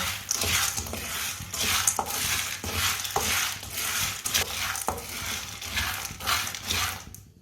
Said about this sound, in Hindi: चनों को अच्छी तरह गर्म कर लेंगे।